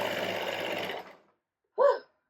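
A serger running for about a second, a dense buzzing whir, then cutting off, followed after a brief pause by a short clunk or voiced sound.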